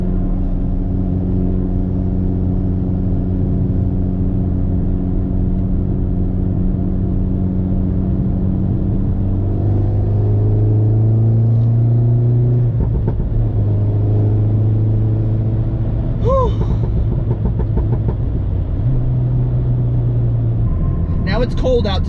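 2013 MINI John Cooper Works GP engine heard from inside the cabin on a cold day, a loud continuous rumble that climbs and drops in pitch through gear changes, with talking over it.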